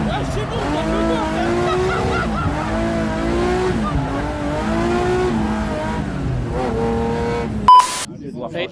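Drift car engine revving hard in repeated rising and falling bursts with some tire squeal, loud and steady for several seconds before cutting off abruptly at a drift event.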